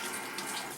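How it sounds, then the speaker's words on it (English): A kitchen tap runs steadily as juicer parts are rinsed out, a close, continuous splashing hiss of water with no pause and no voices. "then I like to rinse this out"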